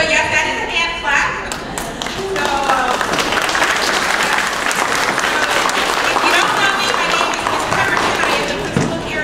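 Audience members at an elementary school spring concert clap together, a lively wash of hand claps with scattered sharper claps and a voice talking over it.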